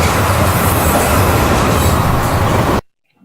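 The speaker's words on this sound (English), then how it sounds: "here's another train pass" Train pass sound effect, a loud, dense rumble of rolling railcars with rattling wheels, steady and close, cutting off abruptly into silence near the end.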